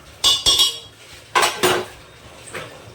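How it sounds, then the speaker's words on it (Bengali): Metal spoon scraping and clanking against a pan while egg potato curry is sautéed, several sharp bursts in pairs with quieter gaps between, close and fairly loud with no talking. "আমি 2-3 মিনিটের মধ্যে কষিয়ে নেব।"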